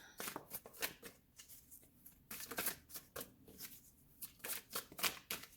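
Tarot cards being shuffled and drawn, heard as a series of quick, crisp papery riffles and flicks in uneven bursts with brief pauses between, close and fairly quiet, with no talking.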